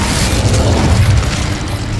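The Incendio fire spell goes off in Hogwarts Legacy as a loud, steady roaring burst of flame with heavy low rumble, filling the whole short moment without pause.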